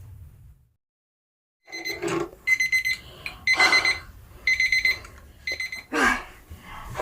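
A household timer alarm rings in repeated bursts of high electronic beeping, close and clear, following a short quiet stretch at the start.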